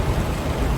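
Heavy rain pours down at a rainy camping site as a steady, loud, broadband wash of falling water with no pauses, briefly heard with no talking.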